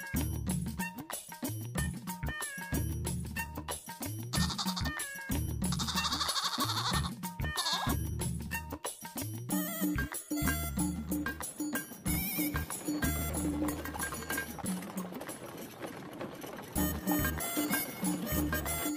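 Goat bleating repeatedly in a cartoon story scene, the quavering cries set over busy music and effects that run throughout.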